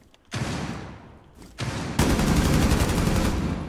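Gunfire in the video game Rainbow Six, heard as dense, loud bursts of rapid shots. A brief lull comes before a sustained, heavier volley, with no talk over it.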